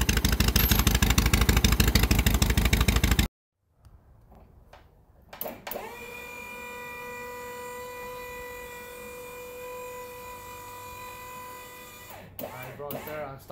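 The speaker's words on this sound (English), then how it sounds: "That's how it idles low." Miller Big 20 welder engine, first a loud rapid pulsing rattle that cuts off abruptly, then a steady low idle hum with tonal whine, some clanks and a voice near the end.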